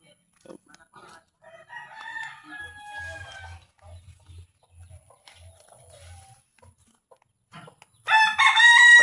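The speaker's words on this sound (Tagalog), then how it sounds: "Manok ko." A rooster crows loudly and close by at the end, after a stretch of quieter mixed background sounds and low thumps.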